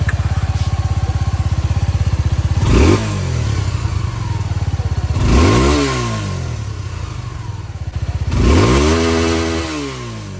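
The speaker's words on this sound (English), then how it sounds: "So this is the normal exhaust note stock" Suzuki V-Strom SX 250 motorcycle on its stock exhaust, idling with a steady thrum, then blipped three times, each rev rising sharply and falling back, close and loud, with no talk.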